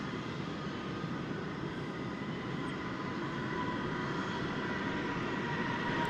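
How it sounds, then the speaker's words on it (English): An Airbus A321 airliner at DFW Airport gives a steady, broad roar that holds at an even level throughout, with no talking over it. "This Airbus A321 comes to us by way of Indianapolis,"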